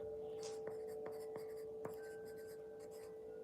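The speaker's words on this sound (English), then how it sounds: "Let me write it down." A pen writing by hand on paper, with a few faint scratchy strokes and light taps over a steady low electrical hum, quiet and close.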